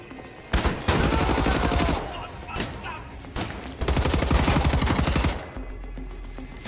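Rapid automatic gunfire rattles in two long, loud bursts during a firefight in Wolfenstein: The New Order, with a short quieter gap between them and a low rumble as it trails off.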